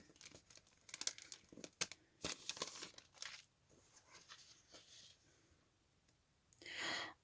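Paper crinkles and rustles in quick bursts up close, with a few sharp crackles, a pause, then a final louder rustle.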